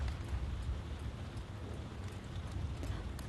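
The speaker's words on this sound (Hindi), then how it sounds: "कितनी तेज बारिश हो रही है।" Heavy rain falls in a steady, dense hiss with a low rumble underneath, continuous and fairly loud, with no voices.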